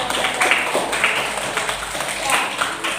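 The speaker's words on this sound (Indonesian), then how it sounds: "Tepuk tangan untuk semuanya." Classroom of teachers and students clapping together during a lesson, a steady dense patter of many hands with some voices mixed in, moderately loud and close throughout.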